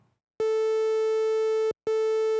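Two sustained notes from a Behringer Model D synthesizer set to the triangle sawtooth waveform, a longer one and then a second after a short break, steady, buzzy and harmonically rich, played close and alone.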